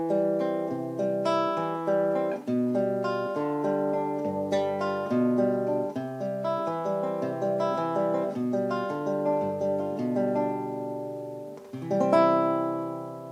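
A classical guitar plays Giuliani's arpeggio exercise number 7, with plucked notes in a steady, flowing pattern over shifting bass notes. The playing is close and clear, with one final strummed chord ringing out at the end and no voices.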